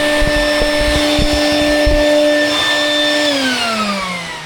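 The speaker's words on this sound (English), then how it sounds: "I'm gonna vacuum" A shop vacuum cleaner runs inside a van with a loud steady whine and some bumping knocks near the start, then its motor pitch slowly winds down.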